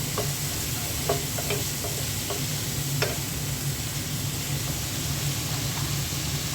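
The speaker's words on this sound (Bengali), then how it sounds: "মশলাটা তেলের সাথে একটু ভেজে নিচ্ছি" Spices fry in oil, with dried chili powder, salt and cumin powder sizzling in a steady, close hiss, and light stirring clicks scattered throughout.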